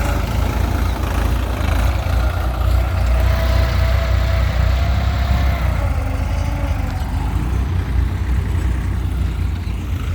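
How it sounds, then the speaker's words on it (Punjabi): A tractor engine runs in a farm field with a steady, continuous low rumble that holds at an even idle-like pace throughout. It is fairly close, with no talking. "ਚੱਲ ਚੱਲ ਚੱਲ ਚੱਲ ਟਰੈਕਟਰ"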